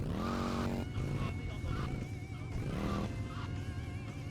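A motorcycle engine in the video game GTA Vice City revs and whines up and down in repeated pitch swings, close and loud, with tire-squeal-like tones and speech mixed in.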